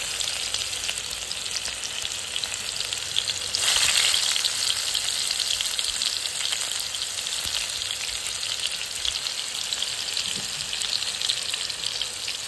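Cumin, green chili and garlic frying in hot oil make a steady, close crackling sizzle that swells briefly near the start, with no voices.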